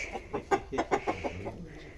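Hens clucking close by on a farm, a quick run of about ten short, rhythmic clucks and murmurs over two seconds, moderately loud with no talking.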